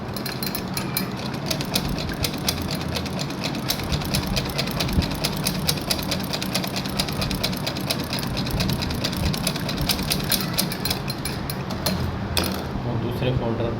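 A sewing machine stitching pleats on a sleeve cuff runs in a fast, steady mechanical chatter of rapid needle strokes, close and continuous, briefly easing near the end.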